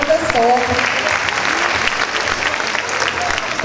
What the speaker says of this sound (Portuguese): nossos aplausos para o professor.